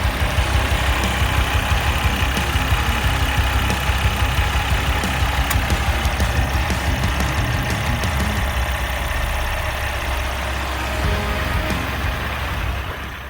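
A truck engine idles steadily with an even, continuous low rumble and a faint knocking texture, heard alone without voices.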